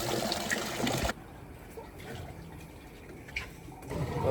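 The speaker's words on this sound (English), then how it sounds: "there's like these dripping waterfall stuff" Water splashing and trickling from a dripping waterfall into a natural hot spring pool, loud and steady for the first second, then a softer continuous trickle with faint voices in the background.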